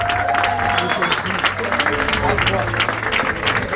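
A church congregation at a Sunday service in Libreville applauds and cheers with dense, loud clapping, while voices carry over the crowd noise throughout.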